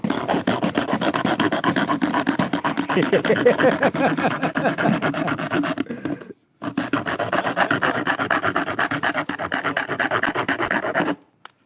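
A wooden chair being cut or rasped, with steady rhythmic rubbing and scraping strokes on wood that continue loud and close, broken by one brief pause near the middle and ending abruptly.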